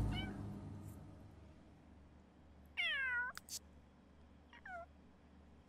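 Cat meowing in The Sims 3 game: two distinct meows, one longer and louder near the middle and a shorter fainter one later, over a quiet low background hum with no talk.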